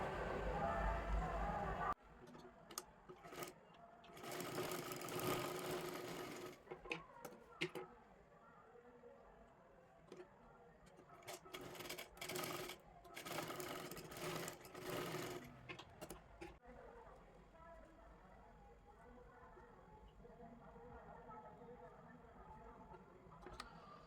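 A sewing machine stitches a strip onto a blouse neckline for a Kathpadar saree, running in repeated close bursts of rapid whirring with quieter handling sounds and ticks between them.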